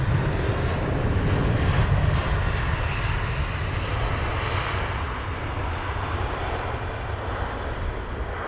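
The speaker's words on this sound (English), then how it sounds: "And off in the distance there, Virgin. Dreamliner by the looks of it." Virgin Atlantic Boeing Dreamliner airliner at Heathrow Airport, a steady broad engine roar from a distant jet that holds evenly and fades slightly across the stretch, with no talking.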